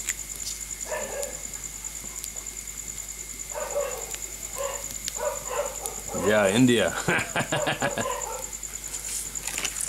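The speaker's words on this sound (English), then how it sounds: "I think there's more dogs here now than there's ever been." Dogs barking in Turkey during a July 4th gathering, a short burst of several barks midway through, fairly close, with people talking over background insect noise.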